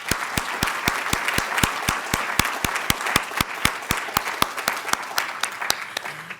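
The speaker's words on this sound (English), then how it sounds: "Let's give Mark a big round for applause." An audience applauds after a lecture on gravitational waves, steady clapping from a sizable crowd with no speech over it, filling the whole stretch at a moderate, even level.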